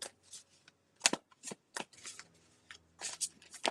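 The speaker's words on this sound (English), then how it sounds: "Give him a good shuffle." A deck of tarot cards is shuffled close by in a series of crisp riffling bursts and soft slaps, irregular in rhythm and fairly quiet, with no talk.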